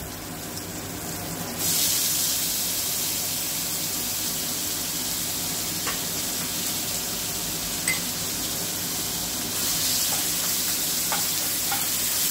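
Onion paste hits hot oil in a pan for doi ilish, bursting into a loud, steady sizzle up close, broken by a few light scrapes and clicks as it is stirred.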